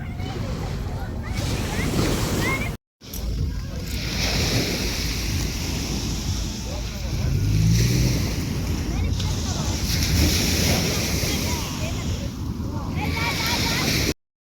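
Gentle waves wash onto a beach on a cold day where children play in the water, a continuous low surf rush heavily mixed with wind buffeting the microphone, steady throughout with one brief dropout.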